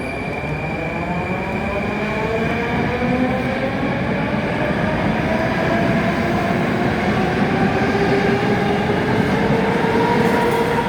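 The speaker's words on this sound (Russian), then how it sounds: "Я хочу красивый поезд снять." A festive New Year train rolls past close by, a loud continuous rumble with rising and falling wheel squeals and a faint rhythmic clatter over the rails.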